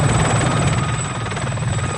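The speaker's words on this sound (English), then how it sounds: "So this is the surviving helicopter." A helicopter from the action film Rambo III drones steadily and loudly, its rotor chop pulsing in a dense, continuous roar with no voices over it.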